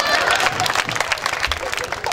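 Brief burst of audience clapping at a live shayari poetry gathering, dense and fairly loud, blended with crowd murmur throughout.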